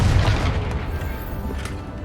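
A Confringo spell explosion in the Hogwarts Legacy video game, heard as a loud, deep, rumbling boom that swells and then fades over about two seconds.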